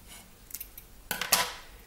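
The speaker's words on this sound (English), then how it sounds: "So I'm going to cut it off right there." Wire being cut off during a ZX81 / Timex Sinclair 1000 repair, heard as two short crisp snips about a quarter second apart, close and fairly quiet, preceded by faint handling clicks.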